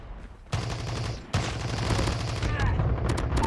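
A light machine gun firing in a video game gunfight, with long sustained bursts of rapid gunfire that break briefly, then resume with heavier, overlapping shots and impacts.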